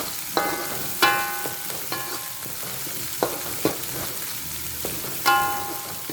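Beef lung frying with spices and chili in a pan, a steady sizzle broken by sharp scraping stirs and clinks of a utensil against the pan.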